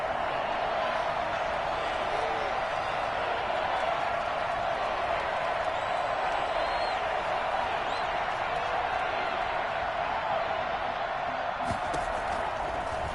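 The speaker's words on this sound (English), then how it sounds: "Crowd getting in it a bit already." Steady roar of a football stadium crowd during an NFL game with Joe Burrow at quarterback, a continuous broad wash of distant cheering and murmur throughout, with a brief sharper burst near the end.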